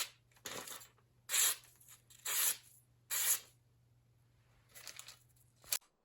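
A freshly belt-sanded, stropped knife slices through phone book paper in four or five short, crisp tearing swipes, separated by quiet pauses, with a faint steady hum underneath.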